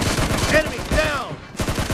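Bursts of automatic gunfire from the mobile shooter Battlegrounds Mobile India in a team deathmatch, several rapid rattling volleys close and loud with a brief pause before firing resumes.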